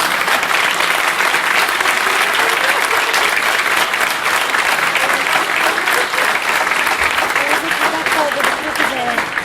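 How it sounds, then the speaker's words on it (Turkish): Sustained applause from a graduation ceremony crowd honouring teacher Hasan at a mechanical engineering class's 30th-year reunion, loud and dense throughout with some voices mixed in. "Hasan hocamız burada kendisine bir alkış rica ediyorum"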